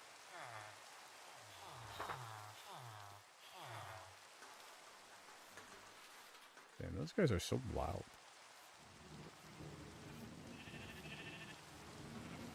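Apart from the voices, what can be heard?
rain falling in Minecraft, video game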